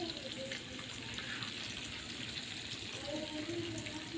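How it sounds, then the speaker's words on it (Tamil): Fish frying in oil over medium heat makes a continuous bubbling sizzle with a faint watery crackle throughout, near and moderately loud, with no voices. "மீன் எடுத்து எண்ணெயில் பொரிச்சிக்கலாம் மிதமான சூட்டில்"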